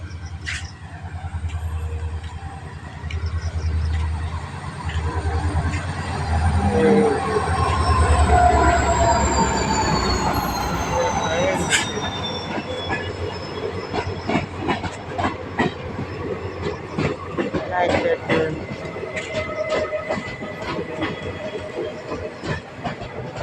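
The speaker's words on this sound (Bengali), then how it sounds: "এই যে ট্রেন আসলো" A train bound for Guwahati rumbles in close by, running late, wheels squealing and clattering over the rails in a long steady run as it pulls into the station.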